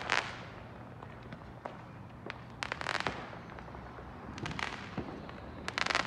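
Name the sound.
fireworks and rockets exploding on Christmas in the United States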